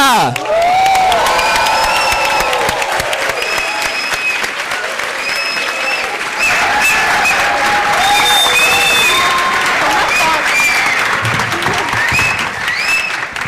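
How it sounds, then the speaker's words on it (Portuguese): Large conference audience at Harvard and MIT bursts into sustained applause with loud cheers, whoops and shouted voices rising over the clapping as a guest comes on stage. "Obrigada pelos aplausos"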